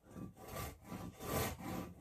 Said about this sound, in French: je viens me poser avec la scie